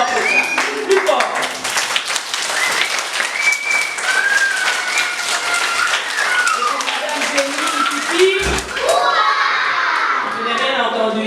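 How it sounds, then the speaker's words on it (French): A classroom of schoolchildren applauds louder on request, a sustained burst of dense clapping mixed with shouts and cheering kids, close and loud, with an adult speaking briefly over the noise. "On applaudit plus fort que ça."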